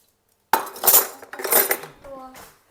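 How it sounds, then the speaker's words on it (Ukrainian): A kitchen knife slicing boiled eggs on a board, giving a few close, crisp cutting and scraping strokes with light clinks of metal, then a brief tonal ring at the end; no talking. "Значить, ми нарізаємо яйця."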